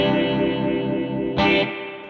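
Ring modulator frequency shift sweeping with feedback on a sustained, buzzy tone, ending in a sharp bright burst before fading slightly; loud, with no voice.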